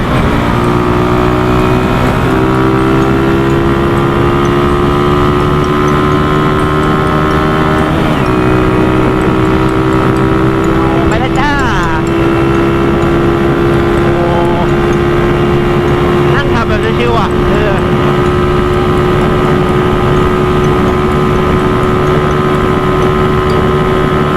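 Honda Wave 125s motorcycle engine running hard with a loud, continuous droning whine that rises gradually in pitch as the throttle is held and gears change, close up, with a rider talking over it.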